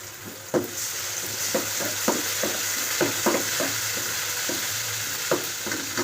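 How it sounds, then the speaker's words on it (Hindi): Steady sizzling of browned onions and ginger-garlic paste frying in hot oil, with repeated scraping and clinking of a spoon stirring the pan, close and continuous. "ब्राउन हो गया, अब इसमें लहसुन अदरक का पेस्ट डाल देंगे हम।"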